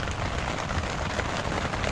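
Rain drums on a tent at a hidden Himalayan shepherds' campsite on Majua Top in Bageshwar, a dense, steady patter that holds evenly throughout with no voices.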